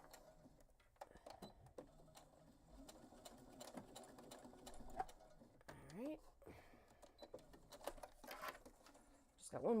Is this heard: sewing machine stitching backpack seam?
yes